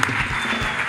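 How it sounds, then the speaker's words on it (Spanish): Studio audience applause at a live comedy talk show interview with Felipe Peláez, a dense steady wash of clapping filling the whole short moment at moderate loudness. "Fuerte el aplauso, Pipe"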